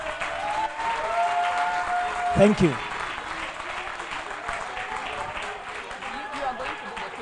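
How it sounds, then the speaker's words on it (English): An audience at a law society presidential debate claps for the candidates, a sustained wash of applause with someone speaking briefly over it in the middle. "let's clap for"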